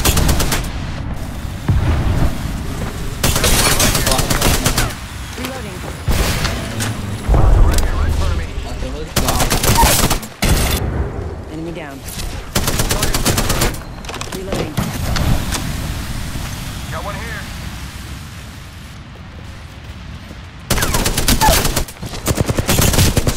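Gunfire in the video game Apex Legends bursts loudly in repeated volleys and single cracks, spread across the stretch with brief quieter gaps, while players talk over it.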